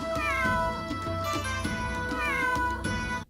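Cat meowing in the Suikoden V video game, several drawn-out meows in a row, loud and close over a steady musical backing, with no voices.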